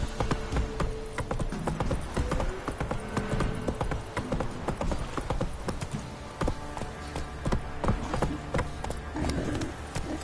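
Horse hooves clip-clop steadily in The Witcher 3: Wild Hunt on PS5, a dense, close rhythm of clopping footfalls at a brisk pace running throughout alongside game ambience.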